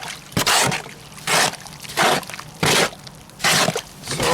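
Type S mortar with sand and water is mixed in repeated wet scraping, squelching strokes, about six loud bursts in a steady rhythm with brief pauses between.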